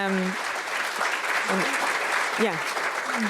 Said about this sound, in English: If we can give them a little round of applause.